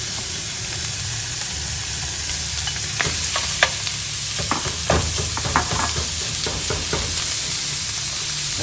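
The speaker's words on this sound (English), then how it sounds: "Now we're gonna get our hamburger, get that in the frying pan, get that cooking." Hamburger meat sizzles steadily in a frying pan on a gas burner, a constant loud hiss broken by scattered crackles and pops and a few scraping stirs.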